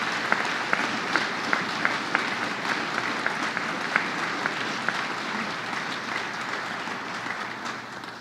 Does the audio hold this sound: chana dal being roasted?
no